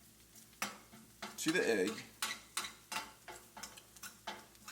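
Chorizo and ramen noodles are pushed around a frying pan, with a run of sharp utensil scrapes and clacks against the pan over a soft sizzle, close up. A brief spoken phrase comes near the start.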